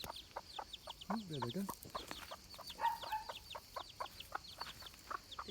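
Small chicks cheep in a cage amid rapid, repeated short peeps, with a few clucks from adult hens nearby and a brief comment from a voice partway through.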